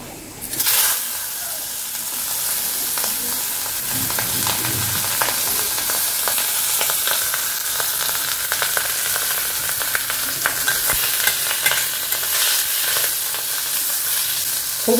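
Tangra fish coated in mustard oil, salt and turmeric fry in a small amount of oil, giving a steady close sizzle with crackling pops throughout, without talk.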